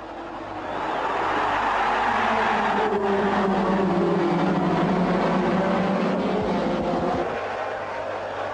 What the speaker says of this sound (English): John Player was the first billboard to leave the start line, carried at high speed by Senna's Lotus Renault.